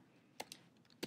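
Three or four quiet, separate keystrokes tap on a computer keyboard during Spanish text entry in an office document, close and isolated against a faint background hum.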